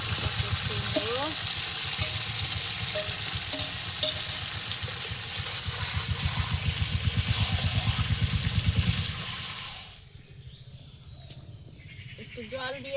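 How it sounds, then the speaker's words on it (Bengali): Chicken meat sizzles and fries in a hot pan with chili, stirred with a steady scraping rhythm for several seconds before the sizzle drops away, set outdoors in a village garden kitchen. "কষিয়ে নিচ্ছি। দিয়ে দিলাম মাংস"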